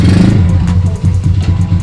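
Custom step-through motorcycle fitted with a larger engine revs loudly up close, throaty pulses rising and falling in quick bursts with clattering mechanical knocks through the short burst.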